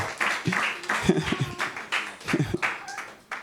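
A church congregation claps and cheers in acclaim of the Lord, with bursts of clapping and raised voices mingling under a preacher's call at a lively worship service.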